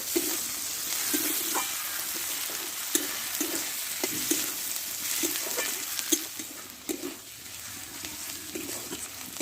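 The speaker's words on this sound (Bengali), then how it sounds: "এক চামচ মতো আদা রসুন বাটা দিয়ে দেবো দুটো কেটে রাখা মোটো সাইজের টমেটো দিয়ে একসঙ্গে ভালোভাবে আমি কষে নেব" Ginger-garlic paste and chopped tomatoes frying in a pan for bitter gourd masala curry, a steady broad sizzle with repeated soft stirring scrapes throughout, close and fairly quiet, no voices.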